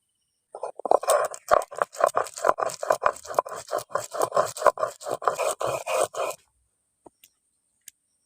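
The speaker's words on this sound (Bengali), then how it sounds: "এবার আলাদা করে সাদা সরষে বেটে নিচ্ছি" White mustard seeds ground by hand on a flat grinding stone, a loud, steady run of rhythmic rasping strokes, roughly three per second for several seconds, then stopping, with a couple of faint knocks afterwards.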